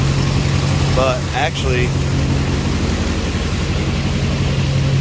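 Duramax diesel swapped into a Cadillac Escalade idling with full exhaust, a steady low rumble throughout while someone briefly talks over it.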